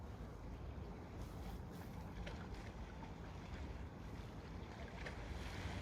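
Lake water washing against a canoe from a boat's wake, a steady broadband slosh and splash close by, with wind buffeting the microphone throughout and no talk.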